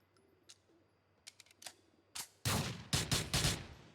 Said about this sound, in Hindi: मैंने इस पे इतना सारा फायर किया लेकिन ये ब्लास्ट ही नहीं हुआ